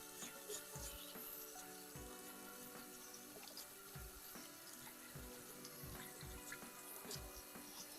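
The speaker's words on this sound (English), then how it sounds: "you're going to scrub it kind of lightly all the way around, up and down" A Berkey water filter element is scrubbed lightly by hand with a soap-free sponge under running water, giving soft repeated rubbing strokes over a steady faucet hiss, quiet and close.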